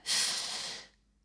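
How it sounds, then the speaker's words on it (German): One heavy, breathy exhale rushes out loudly and airily for most of a second, then fades into near silence. "das gleiche Schnaufen, das wir sowieso den ganzen Tag automatisch machen"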